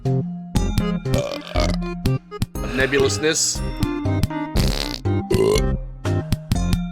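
Burping and farting sounds in a video game about farting, a rapid series of loud, close bursts mixed with spoken voices and game noises.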